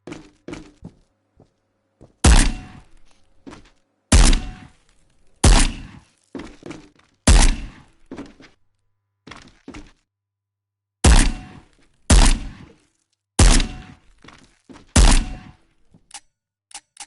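Shotgun blasts on a target course in the Ghost of Tabor video game: eight heavy, evenly spaced booming shots about one to two seconds apart, each followed by softer thuds and clatter of hit targets, near and loud.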